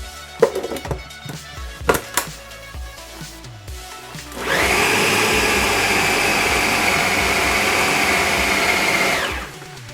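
Blender whirring through a Brazilian paçoca peanut candy mixture, starting after a few clunks and knocks and running loud and steady for about five seconds before cutting off.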